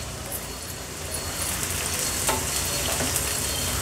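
Small onion with a spoonful of ginger-garlic crush frying in a pan for a Konkani-style raw jackfruit bhaji, a steady close sizzle with scraping stirs throughout and no talk.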